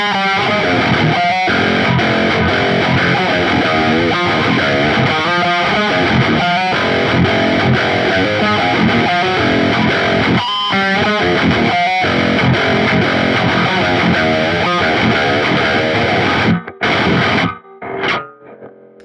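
Distorted electric guitar played through a Nano Cortex amp capture, a loud, dense continuous riff with chugging rhythm and sustained overdriven tones, breaking into short stops and a few final stabs near the end.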